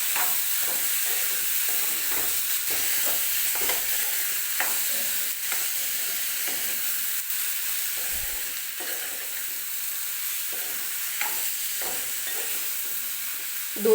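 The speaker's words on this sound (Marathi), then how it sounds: "मी ही डाळ अशीच या मसाल्यांसोबत परतून घेतलेली आहे" Split moth bean dal stirred and sautéed with onion-tomato masala in a pan, with steady scraping and stirring strokes over a low background sizzle, close and continuous, with no speech.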